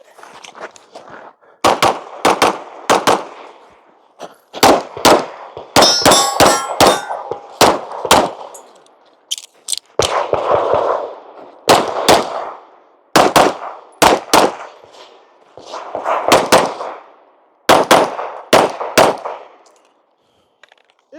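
Rapid strings of pistol shots crack out at a USPSA match, some ringing with sharp metallic clangs off steel targets, fired in quick bursts of two to five with brief pauses between as the shooter moves through the stage.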